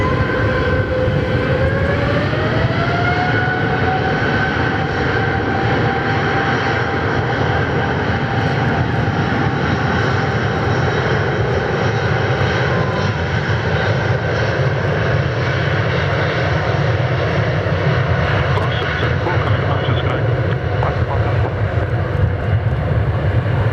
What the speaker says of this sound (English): Mauritius cleared for takeoff.